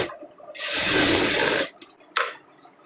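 A sewing machine runs a stitch on folded blouse fabric with lining, one short, loud burst of about a second between quiet handling clicks and rustles, with no talking.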